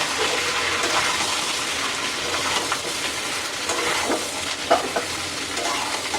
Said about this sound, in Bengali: পটলের সাথে আমি এখন পেঁয়াজটা দিয়ে দিব, একসাথে ভাজা ভাজা হয়ে যাক